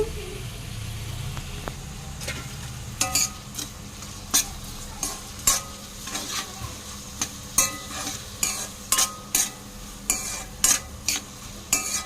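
Chopped onions with coarse salt fry in a new pan for mutton curry, making a constant sizzle under repeated rhythmic scrapes and clinks of a ladle stirring against the metal, with no voices.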